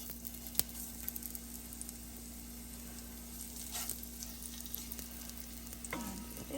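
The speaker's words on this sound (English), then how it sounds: "Let's test if the oil is hot." Hot oil sizzles and crackles steadily in a pan being heated for browning beef goulash, a soft continuous frying hiss with a few small pops.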